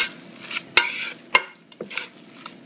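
Spoon strokes mix a crab cake mixture seasoned with salt and truffle in a bowl, giving a few sharp scraping clicks and soft wet stirring sounds, close and alone.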